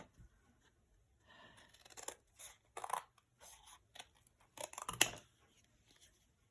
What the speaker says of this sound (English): Using my big scissors.